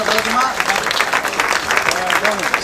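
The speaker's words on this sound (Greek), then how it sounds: "Ένα μεγάλο χειροκρότημα" An audience claps loudly after a jazz quartet's set at the Kalamata Jazz Festival, dense steady applause with a voice speaking over it.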